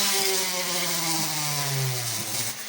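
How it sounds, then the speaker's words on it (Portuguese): Small power drill bit boring a hole into the plastic case of an LG C400 laptop (LGC40 line), a steady whining motor tone that sags and recovers in pitch as the bit bites, close and loud, no talk. "Vamos colocar a broca aí e fazer o furo."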